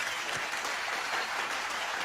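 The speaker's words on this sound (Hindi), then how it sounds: "मैं चाहता हूं कि जगजीत जी के लिए जोरदार तालियां हो जाएं एक बार।" A comedy show audience applauds loudly and steadily throughout as a tribute to Jagjit Singh, a dense wash of many hands clapping with no voices on top.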